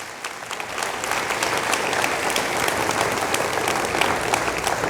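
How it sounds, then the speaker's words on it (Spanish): A church congregation breaks into dense, sustained applause during a sermon. The clapping is loud and close and continues evenly for about five seconds, with almost no talking. "Dale un fuerte aplauso a él."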